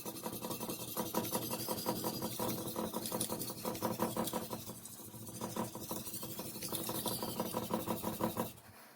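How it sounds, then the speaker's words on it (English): A chef's knife is sharpened on a gritty whetstone with steady, rhythmic rasping strokes, close and continuous, ending with a brief silence. "Your stone sounds gritty, clean it off."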